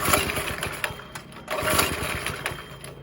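A 5.5HP Briggs and Stratton small engine on a go kart runs with an uneven, throttling drone, rising and falling in steady loud surges with sharp ticks over about three seconds, and no talk.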